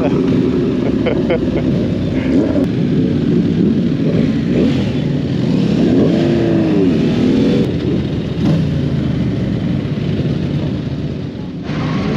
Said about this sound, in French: elle chante sa moto là, lui